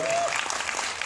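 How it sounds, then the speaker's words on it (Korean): A film premiere audience claps in a short, steady burst of applause with a brief tone over the start. "김동현 선수 한국대에 남아 있으니까 박수 한번 쳐주시죠."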